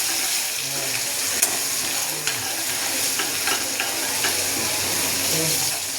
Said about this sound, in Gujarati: હવે એમાં લસણ એડ કરી દઈશું અને લસણને મિક્સ કરીશું આ રીતે।